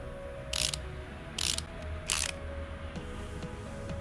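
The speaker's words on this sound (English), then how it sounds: "Put some screws in." In Car Mechanic Simulator 2018, screws are fastened on an engine's clutch pressure plate, producing three brief, evenly spaced ratcheting bursts over a steady low hum.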